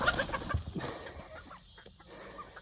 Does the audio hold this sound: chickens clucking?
yes